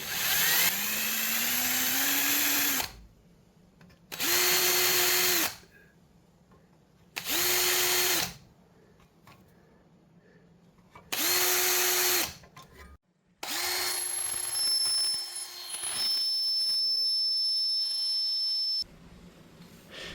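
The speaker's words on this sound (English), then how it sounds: "And so now I'm going to use my drill." A power drill used while installing a trailer hitch wiring harness on a Nissan Frontier whines in four short, loud bursts separated by pauses, then runs for a longer stretch with a rising, ringing pitch.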